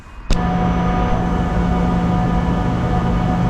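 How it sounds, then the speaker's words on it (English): A Slovenian passenger train rumbles at a steady, loud, constant drone after a brief sharp bang near the start. "Let's get on this Slovenian train and get out to a small town"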